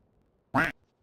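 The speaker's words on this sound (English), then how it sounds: "The rubber duck is working." A rubber duck gives a single loud, short quack that stands alone against near silence.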